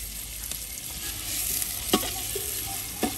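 Meat frying in a large pot sizzles continuously while a utensil scrapes and clanks against the metal as it is stirred, with a few sharp knocks close by.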